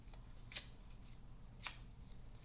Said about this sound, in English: If you want to take your scissors and give it a little bit of a curl